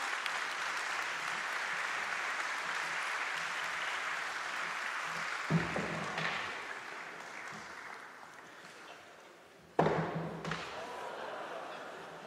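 Audience applause rolls steadily through a hall at a ceremony marking the 25th anniversary of Silesian regional self-government, then fades, with a couple of thumps and a fresh burst of clapping near the end.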